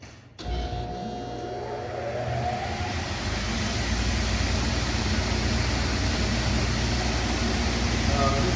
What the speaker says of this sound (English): This turns your saw motor on.